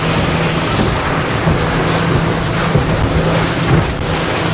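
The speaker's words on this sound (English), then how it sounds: "look at how the waves break and they're getting pushed back" Ocean waves and strong wind roar continuously around a moving boat crossing open water toward Bimini, with steady loud surf wash and wind buffeting the microphone throughout.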